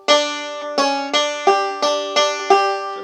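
Banjo picking measure 2 of 'When The Saints Go Marching In': six bright, twangy plucked notes in an even, moderate rhythm, close and clear with no talking.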